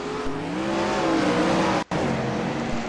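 A sprint car races hard through the corners at Limaland dirt track, its engine roaring loud and steady with shifting pitch as speed bleeds off, with a brief dropout near the end.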